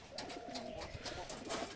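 Soft pigeon cooing rolls on steadily in the background, low murmuring calls overlapping with faint rustles and scattered higher chirps.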